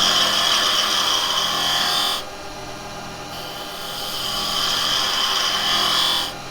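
Carbide chisel cutting a spinning wood blank on a lathe, a loud hissing scrape in two long passes with a brief quieter gap between, close up and without talk.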